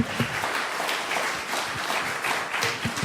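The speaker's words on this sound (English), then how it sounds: "Let's give these guys a big round of applause" A crowd claps in a round of applause at a community seniors' downsizing event, with a steady, dense patter of hands lasting a few seconds.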